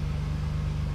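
A used Jeep Liberty with a 3.7 liter V6 runs with a steady low hum at close range, a smooth and even engine sound with no talk over it.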